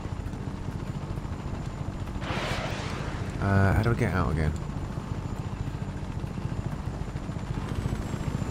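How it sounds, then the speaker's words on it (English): A helicopter in the video game Just Cause 3 drones steadily in the background, a low rotor hum beneath someone talking, with a brief louder whoosh partway through. "We should probably get out the helicopter now"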